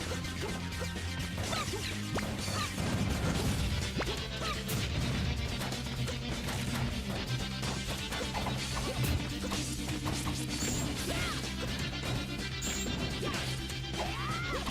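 Super Smash Bros tournament gameplay, Toon Link against Captain Falcon, with a dense stream of punchy hit impacts, crashes and whooshes layered over game music, continuous and loud throughout.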